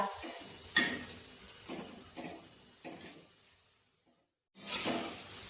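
Cabbage bhaji fritters frying in hot oil in a pan, a steady sizzle with a few louder scraping stirs, a brief near-silent gap, then a loud burst of frying near the end, with no talk.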